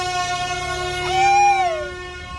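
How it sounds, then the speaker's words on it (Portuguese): Horn of a fun-ride road train sounding a steady multi-tone honk, with a brief rising swell in the middle before settling, close and fairly loud. "Buzina, Zé, buzina!"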